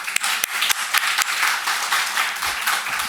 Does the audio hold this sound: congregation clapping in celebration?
yes